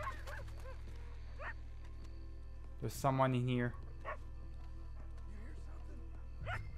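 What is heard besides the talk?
dog barking and whimpering in the video game Red Dead Redemption 2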